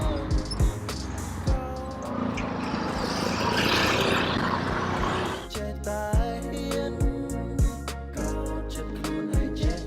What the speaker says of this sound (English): Now we are taking a tuk-tuk to our hotel.